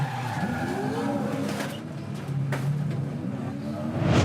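Onboard a Supercars race car at the Townsville SuperSprint street circuit during a moment of contact: a loud, continuous engine roar with shifting pitch, tyre scrubbing and a sharp bang midway, with no talk.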